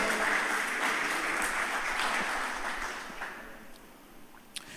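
A church congregation claps and applauds steadily, the dense crowd sound fading gradually toward the end with a faint voice underneath.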